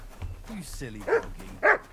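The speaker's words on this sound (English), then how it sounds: "You silly doggy." A dog in the medieval video game Kingdom Come Deliverance 2 gives two short, close barks about half a second apart, mixed with game voices speaking.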